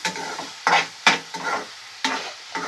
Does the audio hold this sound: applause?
no